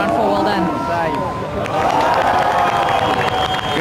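Crowd cheering and shouting at a surf contest, a loud, sustained roar of many voices with whoops and whistles, with a commentator talking over it.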